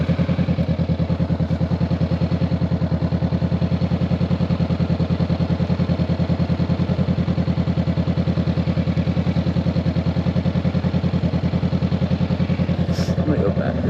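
A 2022 Honda CBR500R with a new aftermarket exhaust rumbles steadily and loudly at a constant pulse throughout, the motorcycle engine close and unbroken while riding.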